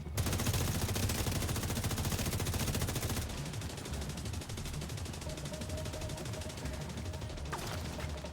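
Heavy machine gun fire in the video game Division 2: a loud, dense, rapid burst for about three seconds, then a quieter stretch of scattered shots and game noise.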